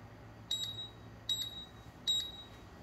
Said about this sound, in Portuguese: Quando finaliza o processo, ela emite um bip de aviso.